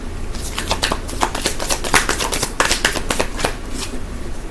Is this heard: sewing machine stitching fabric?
no